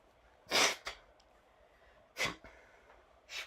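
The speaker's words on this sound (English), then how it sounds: "you get to hear this wonderful sound of me blowing my nose" A person with a blocked nose blows it hard into a tissue, close up and alone: two loud, rough bursts of air a couple of seconds apart, then the start of a third.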